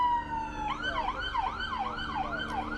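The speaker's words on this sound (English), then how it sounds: "I don't know if you can hear it behind me, but sirens just going off." A police car siren wails, rising and falling repeatedly, shifting into a fast yelp pattern, heard at moderate distance over traffic rumble during a memorial procession.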